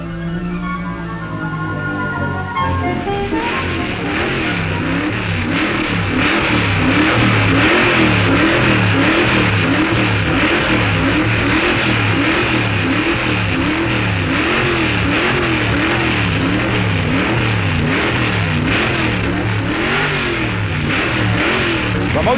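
A Sidewinder crew drag racing car from Long Beach, California, sits at the starting line, its engine loud and close as it revs again and again in a steady rhythm with no talk.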